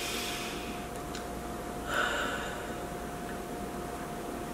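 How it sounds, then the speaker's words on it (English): A person breathes audibly in a demonstration of calm, smooth breathing, with a slightly stronger breath near the middle of the clip over a steady background hiss. "So if I breathe smooth like this,"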